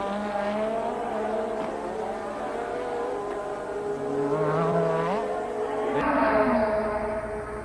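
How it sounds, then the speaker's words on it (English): A 1986 Formula 1 race car flashes past at the Belgian Grand Prix, its loud high-revving engine note rising and sliding in pitch over a steady roar of other engines, swelling near the end. "the car of Alboreto flashes through our picture here"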